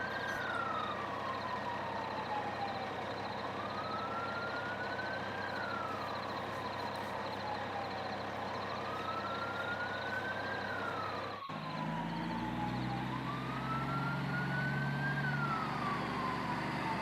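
A police siren wails in a steady rising and falling pattern as it chases a magical toy truck, loud and continuous with engine rumble beneath, no talking.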